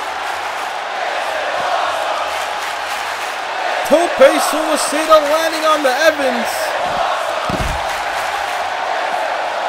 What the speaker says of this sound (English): Obviously the crowd popped for that one.